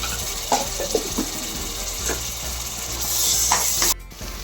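Onions with a pinch of salt fry in a pan for goat head curry, making a close, continuous sizzle broken by light clicks of stirring.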